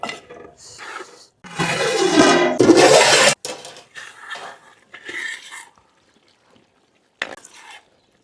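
Water rushes loudly into a pot of mutton curry for about two seconds with a splashing, hissing pour, followed by scattered clinks, stirring and sizzling from the pot in a kitchen.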